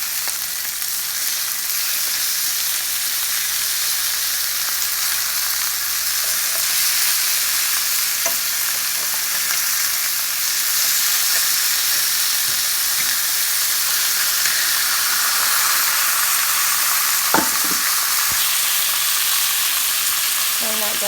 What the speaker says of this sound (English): so I'm gonna go ahead and flip these over.